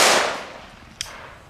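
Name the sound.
firecracker bang from Belgian fireworks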